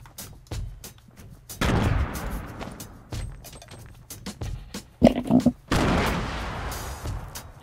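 Fortnite gunfire in a busy fight: a fast stream of sharp shots with heavy booming bursts layered in, growing dense and loud midway and again near the end.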